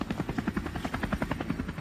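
Rescue helicopter flying over an avalanche site in the Savoie mountains, a steady rhythmic rotor thump, fairly close and continuous with no voices.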